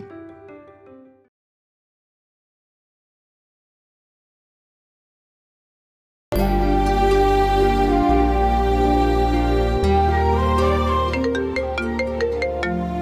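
A phone ringtone in a Kannada TV serial: a short faint tone, several seconds of silence, then a loud, close melodic ringtone that plays on steadily.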